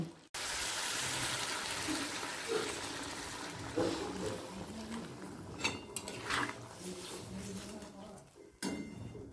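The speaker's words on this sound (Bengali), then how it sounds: "এই সময় দিয়ে দেব গরম জল" Hot water poured into a frying potato and cauliflower masala makes a loud rushing hiss at first, then fades into quieter bubbling with a few clinks and bumps.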